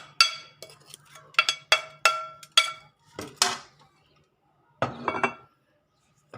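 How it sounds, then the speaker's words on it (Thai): Metallic clinks and scrapes of a utensil against an uneven pan, a quick series of sharp knocks, a pause, then a final short burst, while mixing bamboo shoots with pork belly, chili and ground rice. "คนกับกระทะนะ คนกระทะเขาไม่เรียบ"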